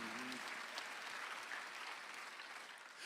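Congregation applauding during a Sunday afternoon church service, a dense, even patter of clapping that continues steadily for a few seconds at moderate level with no speech on top.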